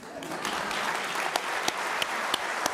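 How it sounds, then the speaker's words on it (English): Audience at an Institute for Advanced Study talk applauding architect Annabelle Selldorf, steady moderate clapping with a few sharper individual claps standing out. "it leaves us with applause for Annabelle Selldorf"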